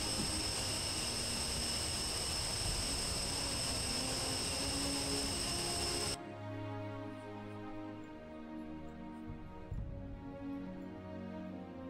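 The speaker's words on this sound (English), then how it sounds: "Still taxiing, just waiting on Viking to get in position" A jet aircraft taxiing in the DCS World flight simulator: a steady, droning engine whine that cuts off abruptly halfway through, leaving quieter humming tones.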